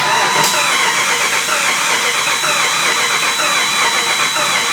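Jeep engine cranking without catching, its fuel pump missing: a steady whirring starter churn holds from start to finish at close range, with no change into a running idle.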